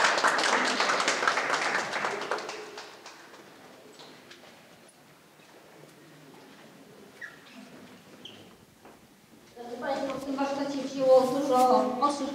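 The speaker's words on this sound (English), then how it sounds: "So applause." An audience at a photography workshop presentation breaks into applause for a few seconds, which fades into a quiet room with faint shuffling before a speaker begins talking.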